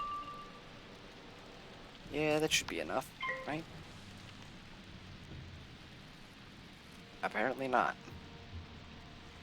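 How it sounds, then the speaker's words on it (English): Falling sand in the Wizard101 video game hisses like steady rain, a soft constant wash of noise running the whole time beneath a person talking in two short bursts. "why does the falling sand sound like rain?"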